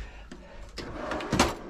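A cutlery drawer in the galley of a 2005 Sealine S29 motor boat being opened, heard as a few soft clicks and a sliding rattle that ends in a louder knock.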